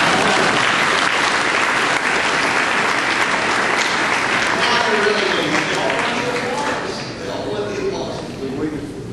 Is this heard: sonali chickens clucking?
no